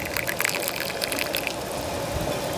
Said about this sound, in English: Susan's gonna go ahead and open up the spout there. And we're gonna just watch it fill.